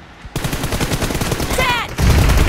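Loud automatic gunfire bursts in the mobile shooter Battlegrounds Mobile India during a team deathmatch, rapid close shots blending with game effects and voices talking over them.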